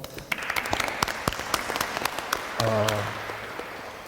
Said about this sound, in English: Reverend Dan, let's give him a round of applause.